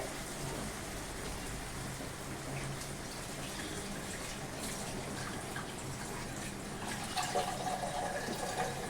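Water splashes and pours steadily into a pot of dal, a continuous rushing trickle that grows slightly louder toward the end, with no talking.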